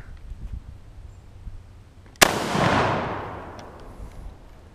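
A single loud, close rifle shot from a 1939 Mosin Nagant 7.62x54r, fired at a Freon tank about 10 yards away in a backyard, cracks sharply and rolls off into a long fading echo after quiet ambient noise.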